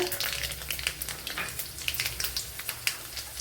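Dried red chillies crackling in hot oil for tender jackfruit thoran, a close, busy sizzle with scattered sharp pops and spits, no talking.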